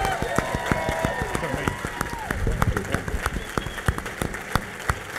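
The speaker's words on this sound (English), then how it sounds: "let's give this superhero a big round of applause" An audience at a public event in DC gives a big round of applause for a guest hailed as a superhero. Sharp, rapid clapping stays close and lively, while someone talks over it.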